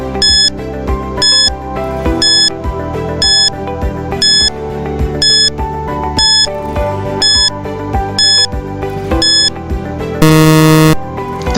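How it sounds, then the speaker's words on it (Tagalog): Countdown timer playing a repeating electronic melody with regular chiming beats, loud and steady, then ending in a sustained buzzing alarm tone near the end, with no talk. "Timer starts now."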